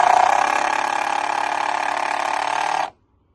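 A power drill drives screws into the foot of a raised garden stand built from reused 5-gallon buckets, a loud steady whirring buzz lasting under three seconds before it cuts off abruptly.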